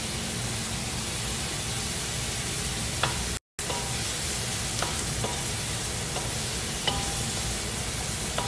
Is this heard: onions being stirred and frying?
yes